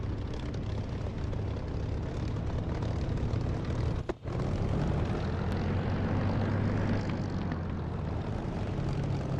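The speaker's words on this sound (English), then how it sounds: "If you're still there, Mike Delta, are you noticing the engine sound on this Spitfire" A Spitfire propeller aircraft engine in a flight simulation game drones steadily throughout, with a brief dip in the middle before the constant roar resumes; no speech.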